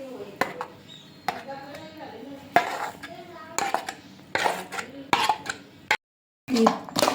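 Fried gobi manchurian being tossed with a tempering in a pan, giving repeated clattering scrapes and metallic knocks of a spoon against the pan in irregular bursts, close and fairly loud, with a brief silent gap.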